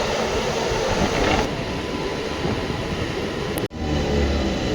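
Tumkur to Shivamogga MEMU express train running, a loud steady rumble and rattle from inside the moving train, ending in a sudden sharp cut.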